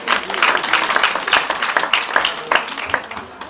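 A small audience at a charity launch claps for a speaker, close, uneven individual claps forming a lively ragged round with distinct hand strikes throughout.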